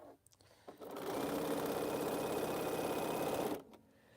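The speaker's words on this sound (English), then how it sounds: "I'm up here sewing." A sewing machine runs steadily for about two and a half seconds while stitching the final border of a quilt, starting and stopping cleanly with a close, even mechanical whir and no talking.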